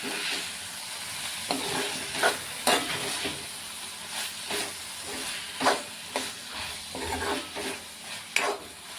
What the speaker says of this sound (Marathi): आता ह्याच्यामध्ये थोडीशी कोथिंबीर टाकते आणि मिक्स करून घेते एकदा